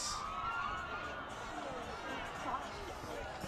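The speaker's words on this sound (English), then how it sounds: "the Fijian supporters were cheering for Kelepi's conversion" Fijian supporters at a rugby match cheer for a conversion kick, a steady, distant crowd roar with scattered shouts that holds level throughout, with a commentator's voice running over it.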